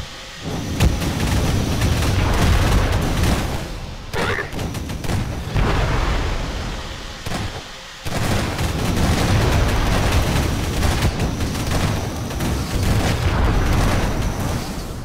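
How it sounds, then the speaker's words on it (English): Grenade explosions and rolling gunfire in the Lambada Wars co-op game, a dense, loud barrage of booms that drops out briefly near the middle and then resumes at full force. "oh no, grenade."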